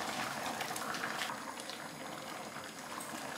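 White soup with smoked mackerel simmers in a pot, giving a soft, steady bubbling and hiss that stays faint and even throughout, with no voices.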